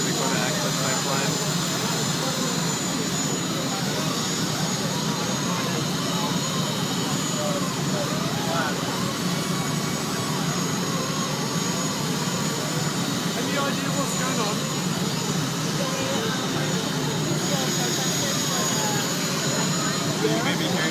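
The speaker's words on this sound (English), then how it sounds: "So you may be hearing the engine of the large fire engine right here. It's pretty loud." A large fire engine's engine rumbles steadily and loudly at close range, a constant droning hum that never lets up.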